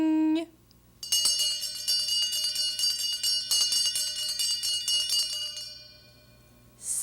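A small, bright bell rings in a rapid, continuous trill for about five seconds after a short pause, then fades. No one speaks.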